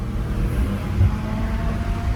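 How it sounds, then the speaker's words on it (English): BMW M5 Competition with catless downpipes, its twin-turbo engine giving a steady, loud low rumble heard close by with no talking. "Those turbos sound disgusting."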